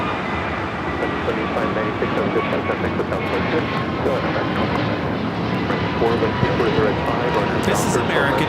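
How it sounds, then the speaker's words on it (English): An American Airlines Airbus A321neo jet takes off from Los Angeles airport, a loud, steady engine roar filling the whole stretch with indistinct voices beneath it. "This is American Airlines 2596 taking off to Charlotte on the A321neo"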